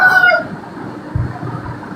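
A chicken gives a short, loud crow-like call close by at the start, followed by faint scratchy background noise and a few low bumps, with no talk.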